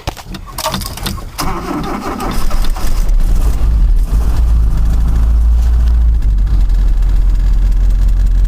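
A choked small engine cranks and catches after a fresh one-piece points set is fitted, settling into a loud, steady low running drone that continues to the end.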